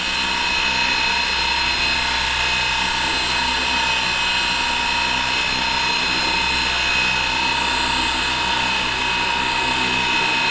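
A Fly Wing FW450L V3 large RC helicopter whines steadily as it descends to land in a tight spot, its rotor and motor a continuous close, loud drone with no pauses.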